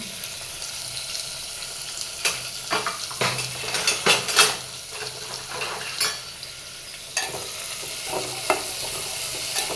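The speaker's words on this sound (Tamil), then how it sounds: "வெங்காயம் சேர்த்து நல்லா கலந்து விட்டுக்கோங்க." Onions stirred and frying in a pan, a steady sizzle with repeated scraping and clinks of a spoon against the pan, close and without talk.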